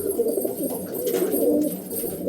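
A male Kalanka pigeon coos in repeated low, throaty rolls, close and fairly loud, with no talking over it.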